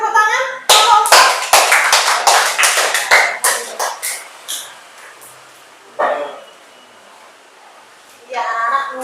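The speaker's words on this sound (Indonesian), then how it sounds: "Beri tepuk tangan." A short round of brisk clapping from a group of children in a classroom, fading into scattered claps, with a voice speaking briefly near the end.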